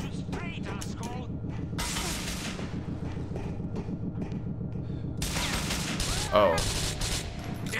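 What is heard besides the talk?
gunfire in the video game Grand Theft Auto IV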